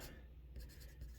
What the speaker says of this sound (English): Let me write down Bo